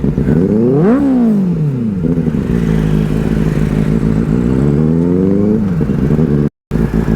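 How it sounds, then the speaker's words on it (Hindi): A loud Benelli 600i superbike engine runs steadily, its pitch climbing and dropping as the rider revs and rides on, with a brief cut near the end. "अपने बाइक की साउंड काफ़ी लाउड है यार"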